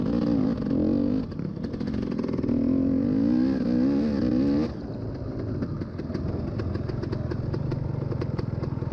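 A motocross dirt bike competes in a vintage race on a muddy track, its engine loud and close, revving and buzzing with rising and falling pitch, dropping briefly before pulling on steadily.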